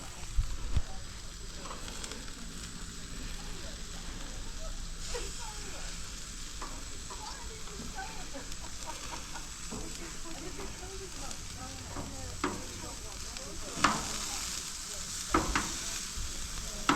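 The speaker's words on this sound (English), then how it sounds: "See the smoke coming out now, the salmon's in there. There's our kebabs." Salmon, kebabs and sweet corn sizzle steadily on a smoky backyard grill, with baked potatoes on the top rack; a constant crackling hiss runs throughout, with a few louder pops and clicks near the end.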